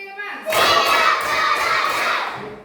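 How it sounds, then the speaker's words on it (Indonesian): Children clap in unison in a classroom during a counting clap chant, a dense burst of hand claps rising after a quiet start and holding steady near the microphone. "Tepuk 1, tepuk 2, tepuk 3, tepuk 4,"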